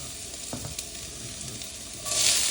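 Garlic sautéing in olive oil gives a steady close-up sizzle with a couple of light utensil taps, then the hiss swells noticeably louder toward the end.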